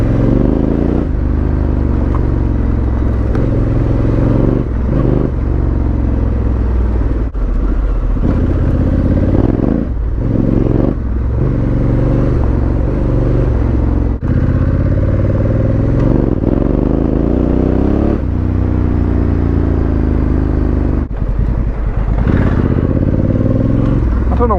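An Africa Twin motorcycle cruising along country lanes, its engine rumbling steadily and close with gear changes and brief revs, wind buffeting over the ride.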